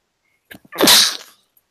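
A single sharp human sneeze, preceded by a short intake of breath, close and fairly loud against silence.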